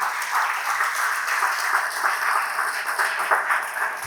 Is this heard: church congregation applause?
yes